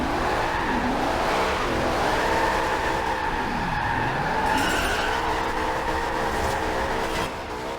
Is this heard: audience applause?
no